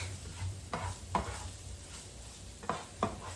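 Clam sauce being stirred in a pan, a soft steady sizzle broken by several distinct scraping stirs spaced through the short stretch, fairly quiet and close, with no voices.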